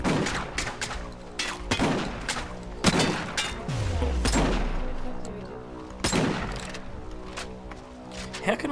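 Rapid bursts of gunfire from shooting in the video game Deathgarden, sharp repeated shots in quick clusters with booming impacts and a low rumble, loud and continuous throughout.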